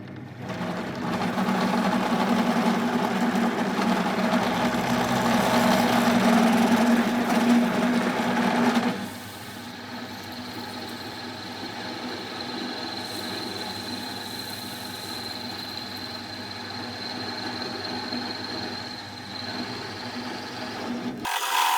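A drill press boring a 16 mm hole with a conical bit through a workpiece clamped tightly in a vise, running as a steady, loud machine drone that drops to a quieter, even whine partway through, with no talking.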